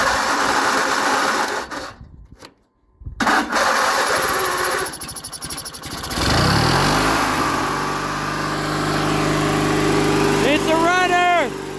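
A riding lawn mower's small engine sputters, cuts out briefly, then catches and settles into a steady buzzing idle, loud and close, with a short high squeal near the end.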